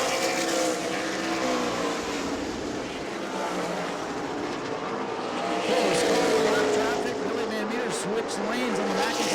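Super late model race cars at New Smyrna Speedway roar steadily around the track. A dense, continuous engine drone swells as the cars pass, while a commentator talks over the noise.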